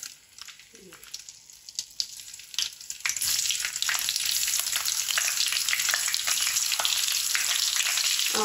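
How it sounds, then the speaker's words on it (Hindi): Cauliflower pieces frying in hot oil in a pan on a medium flame, a soft sizzle at first that swells into a loud, steady crackle. "अब यहाँ पे डाल देंगे गोभी"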